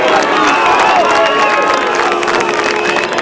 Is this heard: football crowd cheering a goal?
yes